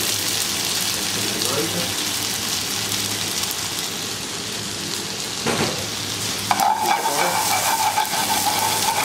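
Butter, garlic and chopped parsley sizzling in a hot pan, a steady close crackle that runs the whole time, with a brief clatter partway and brighter spitting near the end.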